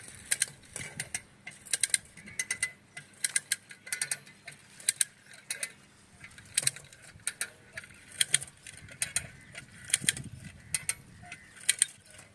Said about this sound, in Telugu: చూడండి, మిషన్ కొడుతుంటే ఇది ఎలా జరుగుతుందో.